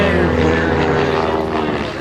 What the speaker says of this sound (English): John Mohr flying the PT-17 Stearman Cadet.